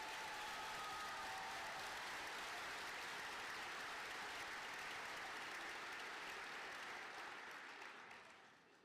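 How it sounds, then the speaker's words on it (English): Sustained applause from a graduation audience for students receiving awards, a broad even wash of many hands that carries on steadily and fades away near the end, with no talk over it. "Please give these students a round of applause."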